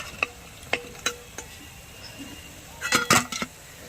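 Pakora rolls frying in a pan of oil with a soft background sizzle, broken by scattered spoon and utensil clinks and a short burst of stirring and scraping near the end, close by.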